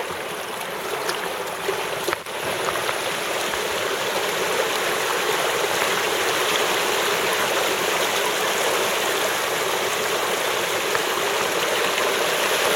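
Creek water pours steadily over a rebuilt dam, a constant close rushing hiss without pause, joined by a single brief knock early on.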